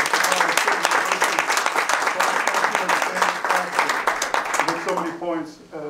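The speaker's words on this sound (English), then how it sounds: "Big round of applause for these guys." An audience at a community conversation on education applauds in sharp, distinct claps that carry on for several seconds and then give way to a voice speaking.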